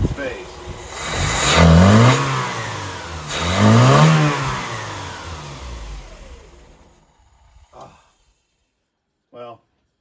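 A Mitsubishi D-50 truck engine, just after a carburetor rebuild, revs up twice in rising and falling swells, then drops back and goes quiet, followed by a brief clunk and a short voice.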